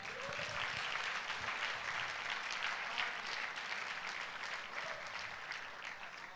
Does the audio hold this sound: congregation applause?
yes